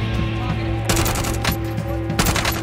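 Rapid automatic gunfire from Call of Duty Warzone, a sustained burst of loud, close shots with bright cracks that flare and ease over several seconds, over a steady game soundtrack hum with no talking.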